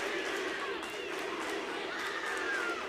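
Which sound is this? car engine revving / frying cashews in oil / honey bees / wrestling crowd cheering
wrestling crowd cheering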